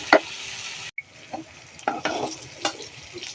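Onion, green chilies and garlic fry in a pan, a soft sizzle broken by several sharp stirring scrapes and clinks from close by.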